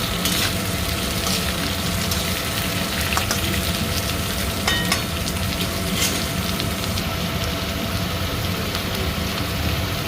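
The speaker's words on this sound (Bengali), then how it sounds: "দুধ করল ভালো করে ভেজে নেবো" Wild bitter gourd fries with onions in a pan, making a loud, dense, continuous sizzle, close up and steady, with faint stirring scrapes in it.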